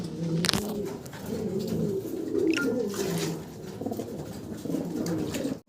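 Fancy pigeons coo continuously nearby, a soft layered rumbling warble with a sharp knock near the start, heard without voices.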